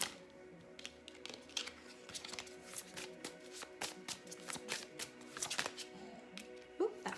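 Tarot cards being shuffled by hand, quiet and close, a string of soft riffling flicks and taps in irregular bursts with a few louder snaps near the end.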